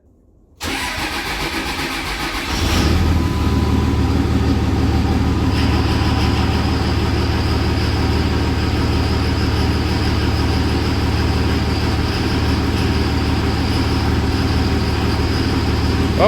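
A Cummins diesel engine cranks and catches, then roars up and holds a loud, steady high-revving drone under throttle, running close and alone without voices.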